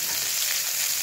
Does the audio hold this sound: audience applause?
no